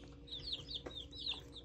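Young mixed-breed chicks, too small to join the grown flock, cluck softly in a quiet cluster of short, repeated chirping calls.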